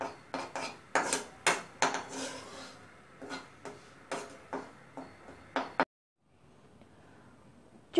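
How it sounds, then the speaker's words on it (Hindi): A spoon scraping and knocking against a pan while flour and jaggery are stirred together, a rhythmic run of sharp clinks and scrapes that stops abruptly, leaving a faint low hum. "आटे को चलाते रहना है।"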